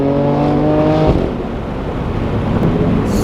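Loud engine roar from a modified 500 hp BMW M3 Competition F80 rear-wheel-drive sedan cornering at speed, a steady harmonic drone that drops off abruptly near the middle, leaving broad road and wind noise.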